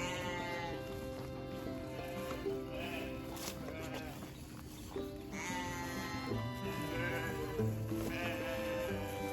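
A flock of sheep bleating continuously, many overlapping calls near and far, loud and steady throughout with no talking.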